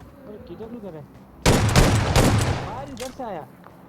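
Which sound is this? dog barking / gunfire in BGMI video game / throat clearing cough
gunfire in BGMI video game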